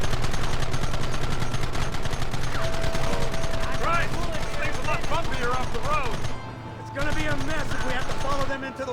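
Gunfire in the Western video game Red Dead Redemption, dense bursts of shots cracking steadily over a busy game soundtrack, with voices talking throughout.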